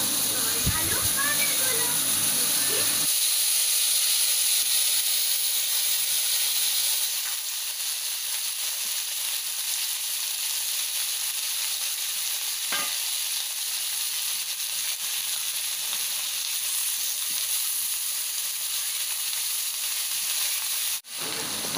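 Ridge gourd and potato sizzling in a pan after a radhuni tempering, a steady hissing fry that is louder for the first few seconds, then settles into a continuous softer sizzle, with occasional talk.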